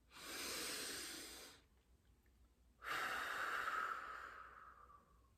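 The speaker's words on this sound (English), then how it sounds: "We're going to breathe in through our nose and breathe out through our mouth." Two slow, deep breaths led by a group leader at a children's chapel gathering: an airy inhale through the nose, a pause, then a long, louder exhale through the mouth that tapers off, close and clear with no talking.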